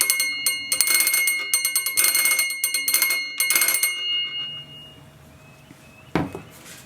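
A homemade doorbell powered by a 9-volt battery rings in several bright, rapid metallic bursts, close and fairly loud, then falls quiet apart from a single knock near the end.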